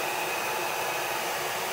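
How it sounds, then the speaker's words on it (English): Hair dryer blowing on its cool shot setting to dry glue on a craft gnome, a steady, close airy whoosh that holds evenly throughout with no talking. "Let me hit this with my hairdryer real quick on the cool shot."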